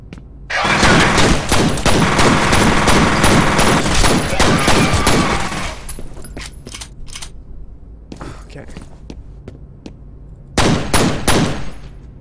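Loud, close automatic gunfire in the shooter F.E.A.R.: a dense, sustained burst of rapid shots lasting about five seconds, then scattered clinks and single shots, and another short burst near the end.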